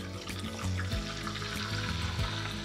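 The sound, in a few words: butter melting and sizzling in a pan on the stove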